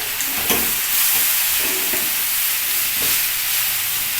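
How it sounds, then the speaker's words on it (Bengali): Vegetables with tomato, coriander leaves and a fried spice mix are stirred in a hot pan, giving a steady close sizzle with a few scraping strokes of the spoon breaking through at intervals; no one speaks. "এবার সবজিটা বেশ নাড়িয়ে নিচ্ছি"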